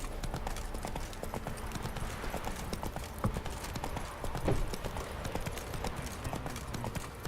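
Rapid, steady hoofbeats of the horse Roach galloping in The Witcher 3, a continuous clip-clop rhythm throughout with a faint snort or whinny mixed into the game sounds.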